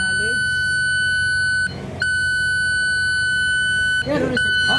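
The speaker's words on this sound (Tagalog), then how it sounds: "Pre-warning, watch alarm." A bridge navigational watch alarm system on a ship sounds a loud, continuous electronic tone that drops out twice briefly, with short bursts of voices in the gaps.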